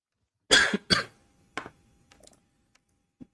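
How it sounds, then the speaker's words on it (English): Two sharp coughs close together, followed by a smaller cough and a few faint throat-clearing sounds in an otherwise quiet space. "just got a little cough there"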